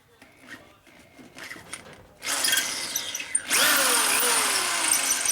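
After some quiet handling noises, a power drill whirs to life, loud and close, its whining pitch rising and dipping as it runs steadily.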